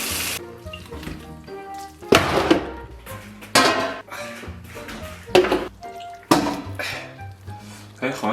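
A beef steak being chopped into pieces with a heavy blade on a board: several loud, sharp chops spaced irregularly a second or two apart, close by, with someone talking between the strikes.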